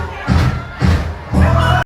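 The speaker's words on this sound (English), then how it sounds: "that's a combination of them stomping and then hitting the fan, so it makes a loud noise" A Carnival cruise crowd stomps and smacks clack fans together in three loud bursts, each a thumping clatter with crowd noise, separated by brief lulls.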